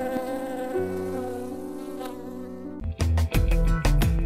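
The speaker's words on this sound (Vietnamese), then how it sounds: "Giống này sinh sôi nảy nở rất nhiều, người ta đặt tên nó là con muỗi." A cartoon mosquito buzzes with a thin, sustained whine in an animated folk tale, later giving way to a burst of loud, rhythmic effect hits.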